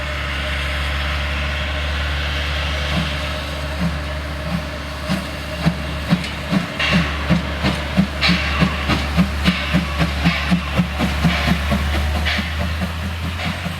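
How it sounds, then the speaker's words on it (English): Two narrow-gauge trains at Bertsdorf on the Zittau line, one diesel-hauled and one steam-hauled, pull away side by side: a steady low engine drone and hiss under a rising run of rhythmic rail clicks and chuffs. "the diesel-hauled train to Kurat-Johnsdorf leaves a few seconds before the steam-hauled train"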